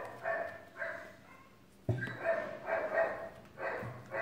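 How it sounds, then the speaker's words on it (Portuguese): Several dogs barking outdoors at a distance, in repeated bursts of a few barks each, with a brief pause and a sharper, closer bark before the barking continues. "Os cachorros estão tudo latindo lá fora."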